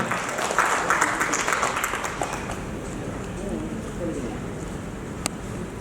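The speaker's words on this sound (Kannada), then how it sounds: "ಜೋರಾಗಿ ಚಪ್ಪಾಳೆ ಬರಬೇಕು" Loud applause from an audience at a stage event in Kannada, filling the hall at a steady level with a brief sharp clap near the end, with voices mixed in underneath.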